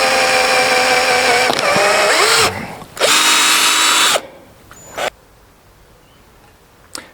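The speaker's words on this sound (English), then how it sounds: "So those are the holes all drilled in across the top" A power drill boring holes through a plastic container lid, with loud, close high-pitched whining bursts separated by short pauses.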